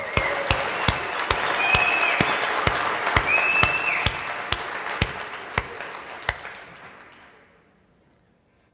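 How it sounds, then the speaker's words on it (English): Seminar audience applauding, a dense wash of many hands clapping with a few sharper individual claps standing out, steady for several seconds before tapering off into silence near the end. "So I think they really deserve a wonderful round of applause for all the good work they've been doing."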